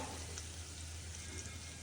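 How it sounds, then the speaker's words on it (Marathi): Spice tempering sizzles steadily in a pan of hot oil for a Marathi rassa curry with patvadi, a soft, even frying hiss that stays quiet and continuous with no talking. "आपली फोडणी अतिशय खमंग फोडणी बसलेली आहे बघू शकता तुम्ही"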